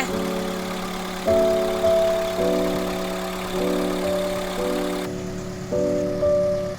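A Mitsubishi Lancer GLXi diesel engine idles close by with a steady, even drone that steps up slightly in level several times, as if lightly revved, with no voices.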